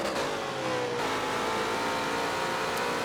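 Race car engines roar continuously in the Forza racing game, a loud, dense, sustained drone with shifting pitch and no voices.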